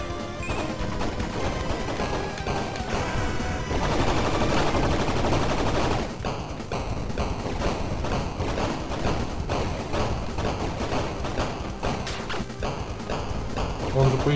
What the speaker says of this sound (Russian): Дробовик.